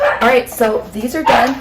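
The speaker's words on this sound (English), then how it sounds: "Sorry for the dog barking today." A dog barks several times in a home kitchen, sharp repeated yaps close by, while someone talks over them during meal prep.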